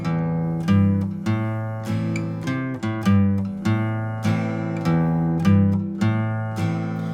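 An acoustic guitar strums a bluesy A-minor groove in steady chords, with single bass notes picked between the strums.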